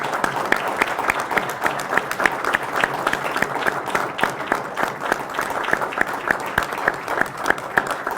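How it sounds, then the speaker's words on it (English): A graduation ceremony crowd at the Northern Nevada Law Enforcement Academy gives steady, dense applause, with many hands clapping continuously throughout and no break in the sound. "Give them a round of applause"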